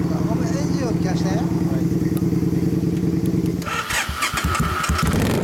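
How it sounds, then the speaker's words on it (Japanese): A 2005 Suzuki Intruder 400 Classic motorcycle engine runs close and loud with a steady, throbbing pulse that shifts in character partway through, while people talk nearby. "ごめん、エンジンを聞かせて。"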